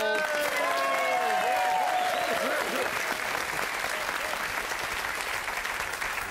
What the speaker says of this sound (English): Round of applause for Rubber Soul.